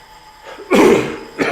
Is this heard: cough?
yes